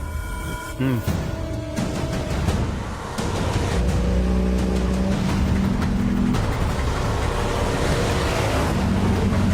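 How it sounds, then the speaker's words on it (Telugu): A vehicle sets off and drives away, its engine humming and rising in pitch as it pulls off, with steady road noise and some background clatter throughout. "బండి బయలుదేరింది సార్."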